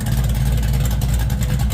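A 1978 Chevrolet Malibu with a 383 stroker V8 and freshly repaired exhaust leaks runs with a steady, deep, continuous rumble, loud and close.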